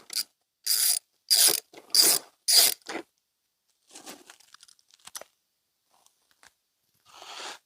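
A ratchet wrench clicks in five quick loud bursts while loosening a tight bolt on a Cfmoto 300NK motorcycle, followed by quieter scattered metallic clinks and fiddling, close up.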